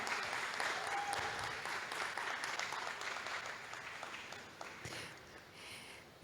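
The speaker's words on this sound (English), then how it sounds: "Please keep clapping till she gets here." Audience applause at an African women's EHS (environment, health and safety) conference as a guest walks to the stage, steady sustained clapping from a sizeable crowd that thins slightly toward the end.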